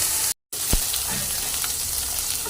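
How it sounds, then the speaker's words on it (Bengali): Tangra fish frying in oil in a pan, a steady close sizzle that runs throughout, with a brief dropout near the start and a soft stir knock. "একদম লাল লাল করে ভেজে নিচ্ছে।"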